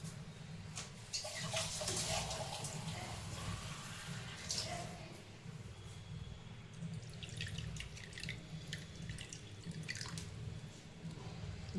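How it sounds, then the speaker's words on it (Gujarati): Water poured onto soil in a pot of sprouting seeds, with soft dripping and trickling splashes close by, quiet and steady under faint background hiss, with no voices. "તો હવે આપણે આને પાણી પાઈશું."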